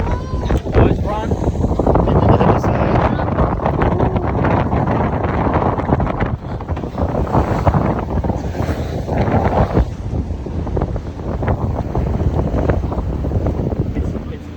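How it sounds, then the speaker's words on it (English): A sailboat beating upwind during a sailing lesson, with steady loud wind buffeting the microphone and water rushing past the hull throughout, mixed with occasional voices. "This boat, so we're going upwind here, and this is pretty well close forward."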